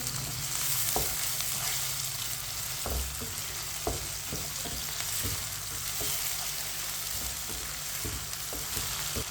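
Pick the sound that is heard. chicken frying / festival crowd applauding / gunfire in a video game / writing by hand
chicken frying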